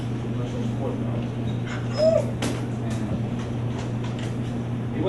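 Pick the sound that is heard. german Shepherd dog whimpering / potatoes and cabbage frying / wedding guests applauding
german Shepherd dog whimpering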